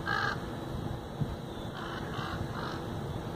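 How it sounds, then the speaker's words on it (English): A crow gives a loud caw, then weaker repeated caws follow a second or so later over steady outdoor background noise at a canyon campground. "stupid crow"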